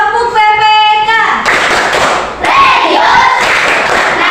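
A school class does the tepuk PPK clapping chant: a voice sings first, then loud, close rhythmic group claps and thumps, with a shouted voice among the hands.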